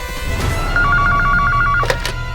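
A telephone rings in a tense indoor scene: a short, steady electronic trill lasting about a second, followed by a couple of sharp knocks, with no talk over it.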